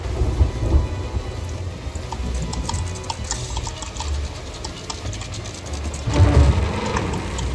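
Thunderstorm in the pirate game Sea of Thieves: steady heavy rain with rumbling thunder, a louder deep crack of thunder near the end, close and loud.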